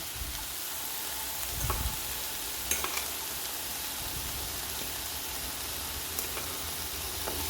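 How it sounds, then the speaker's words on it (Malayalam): Ginger garlic paste fries with anchovies for a Kerala fish peera, giving an even, close sizzle with a few soft stirring knocks and no talking. "കുറച്ച് ഇഞ്ചി വെളുത്തുള്ളി പേസ്റ്റും കൂടെ ആഡ് ചെയ്ത് കൊടുക്കാം"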